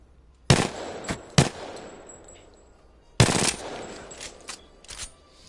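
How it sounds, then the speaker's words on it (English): RE45 pistol fire in Apex Legends: two loud, sharp shots about a second apart, a pause, then a tight burst of several rapid shots, each leaving a brief ringing tail. "So that's basically what a RE45 looks like"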